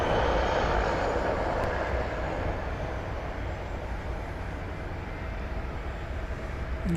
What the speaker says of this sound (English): now the aviation stylings of EVA Air Flight 50. Coming at us